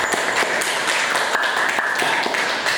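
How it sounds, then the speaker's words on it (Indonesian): A classroom of students bursts into loud, dense applause for a correct answer, a continuous close wash of many hands clapping with a few sharper claps standing out. "Oke, benar jawabannya, tepuk tangan."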